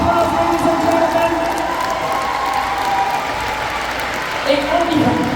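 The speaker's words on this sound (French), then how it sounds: "Give them a round of applause, ladies and gentlemen." Crowd applauding and cheering at a cheerleading competition awards ceremony in Quebec, a dense, steady roar of clapping and shouts that swells again near the end, with a voice talking faintly over it.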